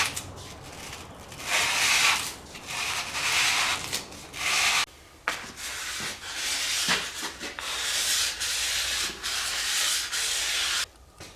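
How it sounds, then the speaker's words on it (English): Hand sanding around a seal surface with 600-grit sticky-back sandpaper on a 1951 MG TD during a rear main seal conversion: steady, close, dry rasping strokes in long continuous bursts with brief pauses. "I've wrapped the sandpaper, it's sticky back sandpaper, and put some tape along the seam here"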